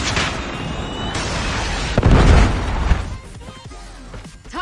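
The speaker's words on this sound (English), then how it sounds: "Predator missile inbound." A Predator missile explosion in the Call of Duty Mobile video game, a loud booming blast in the middle of the clip over continuous game noise and effects, followed by a fading rumble.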